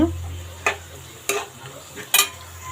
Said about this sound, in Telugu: చూడండి, ఆనియన్స్ బాగా వేగుతున్నాయి కదా.